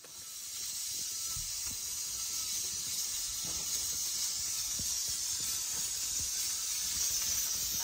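Steam hisses continuously from a pressure cooker whistle while rice cooks on a village fire, a loud, steady spray close by that holds for several seconds and swells slightly toward the end.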